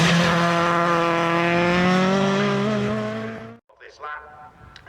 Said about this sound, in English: as he comes through now to take the final checkered flag of the day, Chris Southport makes it to the win.